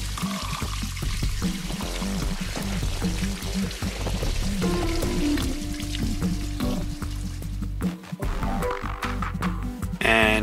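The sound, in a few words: draining liquid from a fermentation barrel outside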